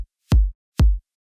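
Two punchy kick drum hits in an electronic dance production, each topped with a short burst of white noise at the attack and then a deep, booming tail, evenly spaced and loud with silence between.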